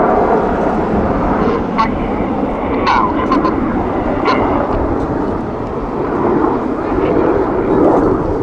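A Royal Air Force Typhoon fighter jet flying a display at the Kauhava airshow, its broad engine roar rumbling loud and steady throughout, with crowd and commentary voices faintly beneath.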